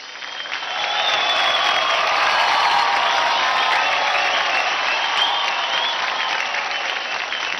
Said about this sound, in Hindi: फैंटास्टिक जोरदार तालियां हो गई श्याम और धीरज के लिए